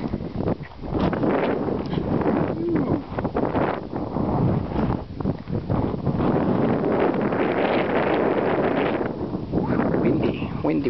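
Wind gusting hard across an exposed hilltop, a loud continuous broadband roar buffeting the microphone with rustling bursts, steady throughout.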